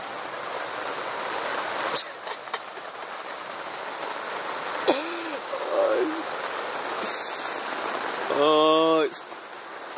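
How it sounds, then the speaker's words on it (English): Steady rain falls across Italy in a dense, even hiss that runs throughout, with a few faint distant knocks and a brief voice near the end. "Rain, rain, rain, rain, rain. That's all this country is doing."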